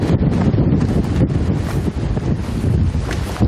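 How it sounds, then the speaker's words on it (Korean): Strong wind roars and buffets the microphone around a 119 fire rescue boat as rough, worsening typhoon seas churn and crash at the breakwater, a loud continuous rush with no voices. "파도는 점점 심해지는데"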